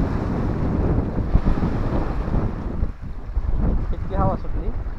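Strong wind gusts roar across the open water at Dhanegaon (Manjara) dam, a loud, steady buffeting rush with rumbling microphone wind noise and a brief lull near the middle.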